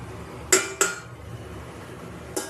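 Metal pot lid lifted off a pan during home cooking, two sharp clinks close together, then a softer clink a couple of seconds later, over a quiet kitchen background.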